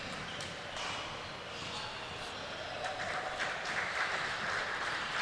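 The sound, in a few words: crowd applauding after basketball championship game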